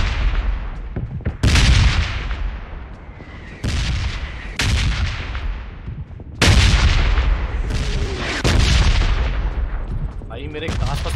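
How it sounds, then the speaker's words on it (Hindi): Bombs bursting in PUBG Mobile gameplay: a series of loud, heavy booms, about six, each hitting suddenly and rumbling off over a second or two, close and dominating the sound. "भाई मेरे घास पर कितने बम फूट रहे यार"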